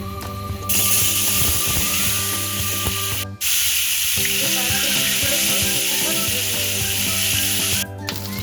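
Boiled eggs fry in hot oil mixed with turmeric and salt, giving a loud, dense, steady sizzle that cuts out briefly twice, with no voices over it.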